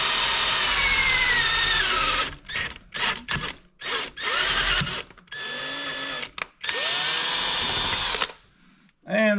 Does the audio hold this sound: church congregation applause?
no